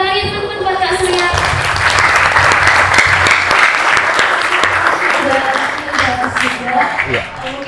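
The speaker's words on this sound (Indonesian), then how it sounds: "Tepuk tangan ya teman-teman buat Kak Surya." Audience applause for a guest speaker at an Indonesian talk session, a dense sustained clapping crowd, loud and close, with some voices and music tones faintly underneath before fading slightly at the end.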